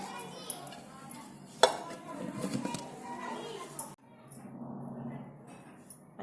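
A metal lid clanks sharply once onto a bowl of namak pare dough amid soft kitchen handling noises, with faint voices in the background.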